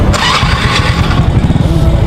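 A motorcycle engine cranks and catches, then settles into a loud, steady idle close by with a rough low pulsing beat, at a roadside shop in Cavite.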